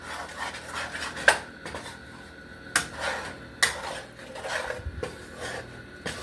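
Flour being stirred into steak gravy in a pan, a soft scraping rasp of utensil against the pan with a few sharper clinks, repeated in uneven strokes, close and alone with no talking.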